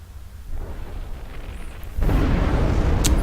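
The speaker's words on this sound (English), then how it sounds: "And there's the surrender explosion." A surrender explosion in the strategy game Planetary Annihilation: a deep rumbling blast swells and then surges louder into a sustained roaring boom with crackling bursts near the end.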